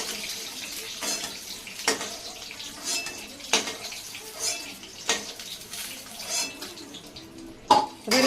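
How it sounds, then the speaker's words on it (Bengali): Eggs fried red in oil are lifted from a pan, making sharp metal clinks and clatters of utensil against pan at irregular intervals over a light background hiss, with no talking. "এবার আমি ডিমগুলো তুলে নেব।"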